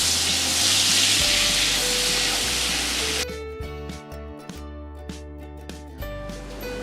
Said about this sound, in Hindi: इसमें 1 बड़ा चम्मच अदरक और लहसुन का पेस्ट डालेंगे।